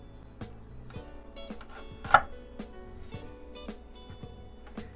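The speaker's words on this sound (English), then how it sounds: "now I'm going to go ahead and make my lengthwise cuts" A kitchen knife makes lengthwise cuts through an onion on a cutting board, with a series of soft, irregular close taps and one sharper knock partway through, quiet and without talking.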